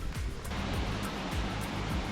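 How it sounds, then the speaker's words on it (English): Water rushes steadily at a waterfall in Plitvice Lakes National Park, Croatia, on an autumn hike, a loud, broad, continuous roar close by. "Ooh, waterfall!"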